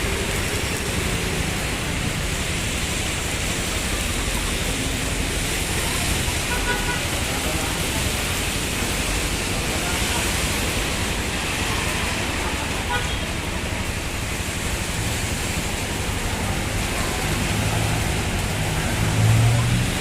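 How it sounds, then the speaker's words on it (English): Steady rain falling on a street in the Philippines during a rainy day, a continuous broadband hiss with traffic rumbling beneath and a faint horn toot near the end. "So the rain is dying down, which is a good thing."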